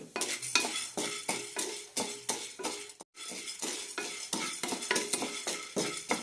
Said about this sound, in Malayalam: രണ്ട് ടേബിൾ സ്പൂൺ വീതം തുവരപ്പരിപ്പ് കടലപ്പരിപ്പ് ഇടാം ഒരു ടേബിൾ സ്പൂൺ ഉഴുന്ന് നന്നായി റോസ്റ്റ് ചെയ്തെടുക്കാം